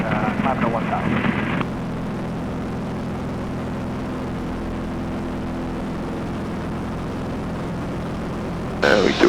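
Steady propeller engine drone from inside the cockpit of an RV8 aerobatic airplane flying an Immelmann, the tone holding loud and even throughout with a brief shift near the start and a rise right at the end.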